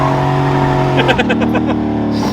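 An LS-swapped G-body car accelerates hard in first gear, its V8 engine roaring loud and close with a steady droning tone that shifts pitch as revs climb, and a voice briefly sounds over it.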